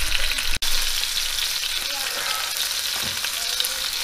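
Rabbit pieces browning in a frying pan for southern fried rabbit, a loud, constant close sizzle with a sharp click early on and faint movement beneath.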